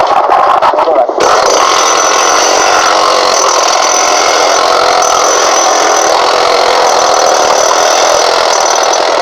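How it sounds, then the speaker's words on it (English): Pneumatic air hammers chip big chunks out of glacier ice at a rescue scene, a loud, unbroken mechanical roar that runs steadily from start to finish. "With the air hammers, they could break out big pieces of ice."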